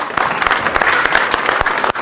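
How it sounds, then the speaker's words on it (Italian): Audience clapping at an inauguration evening for an interior-design showroom, dense and steady applause from a room full of people, close and loud throughout with a brief dip near the end. "facciamo ancora un caloroso applauso perché questo ambiente merita davvero"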